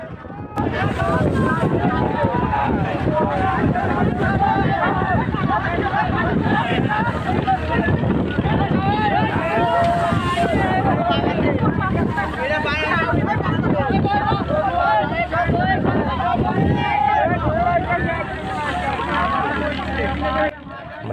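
Strong wind buffets the microphone throughout a trawler trip in rough, wavy water, with a steady loud roar of wind and engine and people talking and shouting over it.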